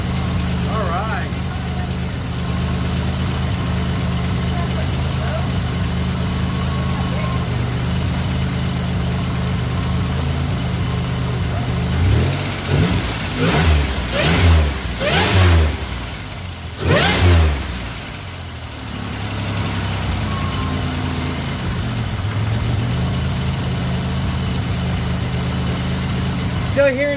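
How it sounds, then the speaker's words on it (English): Rebuilt 3.8 V6 engine in a 2004 Pontiac Grand Am running steadily at idle with a possible lifter tick or exhaust leak, briefly revved a few times midway, then settling back to a constant idle, with talk at times. "Still hearing a ticking noise, so that could be lifters."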